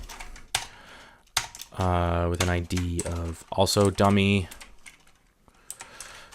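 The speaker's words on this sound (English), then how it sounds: "touch typing is hard" Touch typing on a computer keyboard, quick light key clicks at the start and end with someone talking over the middle stretch.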